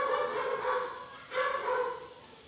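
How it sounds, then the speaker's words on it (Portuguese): A neighbor's dog barks at a distance, two drawn-out bouts of muffled barking and whining carrying in from outside a home where a sofa is being cleaned. "esse cachorro que está latindo não é o Billy nem a Alex"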